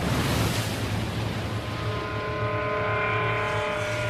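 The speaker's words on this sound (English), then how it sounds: "From out of nowhere, massive waves slammed ashore." Massive ocean waves slamming ashore in Japan, a loud, continuous roaring surge with sustained tones layered over it and no pauses.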